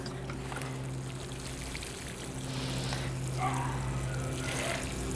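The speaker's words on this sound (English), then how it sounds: "I water the seedling and then I water all the way around it" Water pours steadily onto soil around a freshly transplanted seedling, a soft continuous splashing that grows slightly fuller midway, with a low steady hum underneath and no talking.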